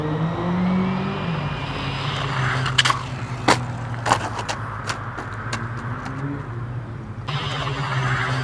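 A Rlaarlo AM-D12 RC car whines steadily as it drives off and comes back, the motor holding a constant tone with a few sharp clicks and knocks from the chassis along the way, heard outdoors at a moderate distance.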